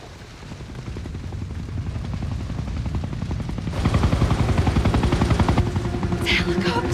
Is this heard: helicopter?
yes